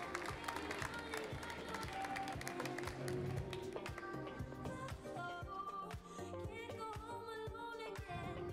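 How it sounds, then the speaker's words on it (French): Audience applause at a barista competition, a dense burst of many hands clapping indoors, continuous and fairly loud, mixed with music and a voice talking over it. "On peut l'applaudir fort, s'il vous plaît."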